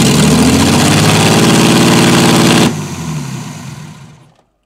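Engine of a 1972 Mercedes W116, a garage find after twenty years, runs loudly with a rough, pulsing beat close to the microphone, then suddenly drops to a quieter idle before cutting off and fading to silence.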